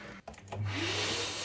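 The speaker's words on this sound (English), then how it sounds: "It was nothing more than a pegboard box hooked up to a vacuum." A vacuum hooked to a pegboard box that serves as a prototype spray booth clunks, then settles into a loud, steady whooshing roar of suction, with no voices.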